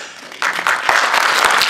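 Audience applause builds suddenly into dense, steady clapping from a crowd at a live stage show, loud and continuous with no voices over it.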